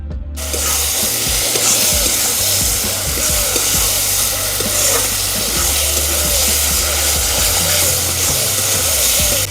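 Mung dal and sugar fry in a hot pan, a steady loud sizzle with scraping and stirring clatter throughout, continuous and close with no speech heard.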